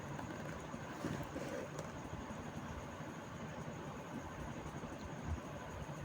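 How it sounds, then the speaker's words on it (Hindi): A sewing machine stitching palazzo pants runs with a steady, continuous mechanical whir and rattle at moderate volume, with no speech over it. "ये देखिए इस तरीके से नीचे तक हम पूरे में सिलाई लगा देंगे"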